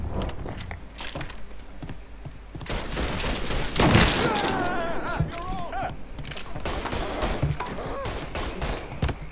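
Gunfire in the Mafia 3 video game crackles through a busy firefight, with bursts and single shots repeating over steady background noise while voices shout in the middle.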